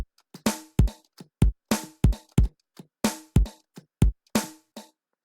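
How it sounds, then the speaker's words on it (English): Punchy electronic bass drum hits in a repeating pattern, with some brighter sampled hits mixed in, clear and alone. "So the space key can play a bass drum sound."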